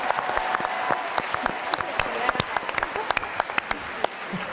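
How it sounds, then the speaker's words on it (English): A theatre audience at a PaleyFest LA panel applauds, a dense patter of many hands clapping continuously at moderate distance while people talk over it. "let's just show, where is she now so we can give her a round of applause"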